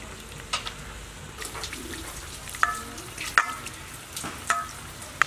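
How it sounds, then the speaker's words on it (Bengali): Chopped onions fry in a pan with a soft, steady sizzle, broken by several sharp clinks of a utensil stirring against the metal, heard up close without speech. "পেঁয়াজটা ভালো করে ভাজা হয়ে গিয়েছে"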